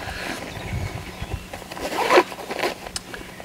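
Zip on an outer pocket of an Osprey Farpoint 40 travel backpack pulled open in one quick close-up rasping run, with faint handling rustle around it.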